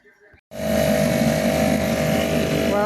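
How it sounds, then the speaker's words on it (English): A Yamaha Suzuki 2.5hp outboard engine, recently tuned after a running problem, starts up after a brief voice and runs at a steady, loud buzzing idle close by. "Never mind, I got the engine running better."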